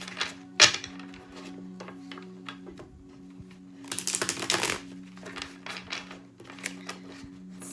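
Tarot cards being shuffled by hand in a few quick riffling bursts, crisp papery flutters and taps with a steady low hum beneath, close and moderately loud with no talking.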